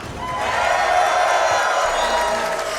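Audience at the Awesome Games Done Quick 2026 speedrun marathon cheers, whoops and applauds together, a loud, sustained crowd roar that holds steady throughout.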